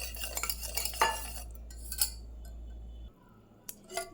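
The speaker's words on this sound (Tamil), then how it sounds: "விஸ்க் வச்சு கலந்துக்கலாம்." A whisk stirs homemade ice cream mixture in a bowl, with quick metallic clinks and scrapes close up in the first two seconds, then a few sparse taps after the background hum drops away.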